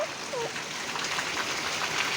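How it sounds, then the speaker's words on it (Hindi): Heavy rain falls in a dense, steady hiss with no breaks, a continuous wash of drops striking surfaces nearby. "देखो हो रही है बारिश, इतनी तेज तेज हो रही है बारिश,"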